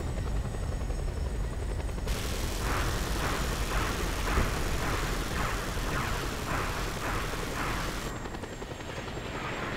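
A helicopter in the Just Cause 2 game thunders close and loud with a steady rotor chop and engine roar throughout, the blade pulsing most prominent in the middle stretch.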